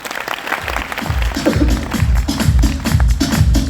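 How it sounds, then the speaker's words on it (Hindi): An auditorium audience claps in loud, rhythmic unison, with heavy low thuds landing at a steady beat, as if hands and feet are keeping time together. "1 मिनट गई सर, एक बार ताली होनी चाहिए दोस्तों"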